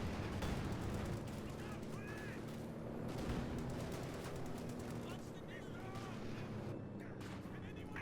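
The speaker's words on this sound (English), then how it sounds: "Panzer Grenadiers firing at the Jackson" Panzer Grenadiers fire on a Jackson tank in a Company of Heroes 2 battle: a steady crackle of rifle and machine-gun fire with heavy booms, continuous and fairly dense for eight seconds, with a voice talking over it.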